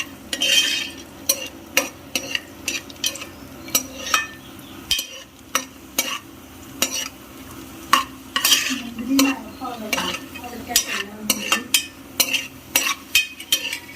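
Cashews and raisins frying in a pan for pazham pradhaman, a soft steady sizzle broken by frequent sharp clinks and scrapes of a spoon stirring against the metal, close and fairly quiet.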